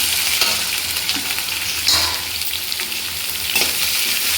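Amaranth leaves with onions and green chillies fry in a pan with a loud, steady hiss and crackle, occasionally rising and dipping as the mixture is stirred, with no voices over it.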